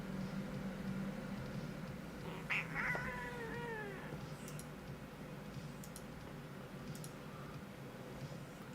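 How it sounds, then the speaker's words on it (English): Pet cat meowing indoors, one drawn-out wavering meow near the start, moderately close, followed by a few faint clicks over low steady room hum with no talking. "my cat's being a drama queen this morning"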